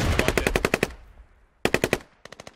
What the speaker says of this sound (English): They were just shooting rounds off at him, CML was.